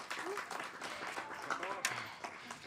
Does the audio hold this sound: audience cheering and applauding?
yes